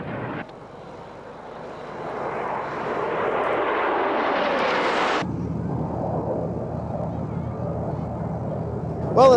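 A US Air Force Thunderbirds F-16 jet roars past at an air show, its loud engine rising to a harsh peak before cutting to a steady, lower rumble as it moves away.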